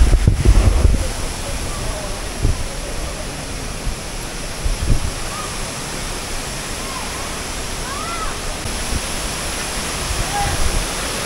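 Daranak Falls in Tanay, Rizal, a powerful waterfall, gives a constant loud broadband roar, with wind buffeting the microphone at the start and faint voices underneath.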